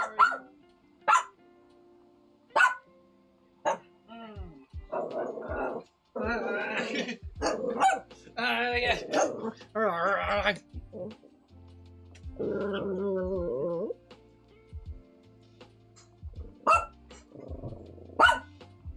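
A dog barking and growling close by, with sharp single barks spaced apart, bursts of rough growling and whiny vocal runs in between, loud against a quiet room.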